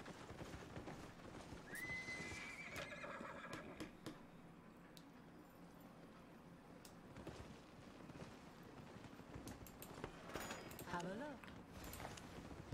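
Horse neighing with clip-clopping hooves in the Albion Online video game, two rising whinnies over steady hoofbeats and light ambient noise, with a voice talking at times.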